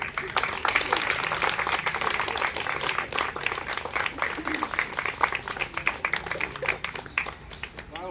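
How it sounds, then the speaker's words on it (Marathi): Trainees at a municipal value-education training session breaking into applause, a dense, steady burst of clapping from a nearby group that tapers slightly near the end, with voices heard through it. "चला टाळ्या वाजवा."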